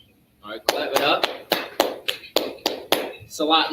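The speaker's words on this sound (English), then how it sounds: "clap it up" Several people clap in a steady rhythm, about eight or nine sharp, close claps spaced evenly after a brief quiet start, in a class setting.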